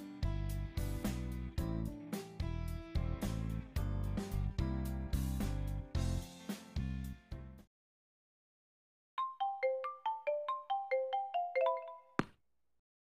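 A phone ringtone from the video game New Prince of Tennis Rising Beat plays a bright repeating melody for several seconds. After a pause, a lighter plucked chime tune follows and ends with a sharp click.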